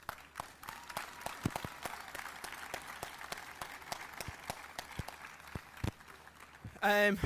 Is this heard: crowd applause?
yes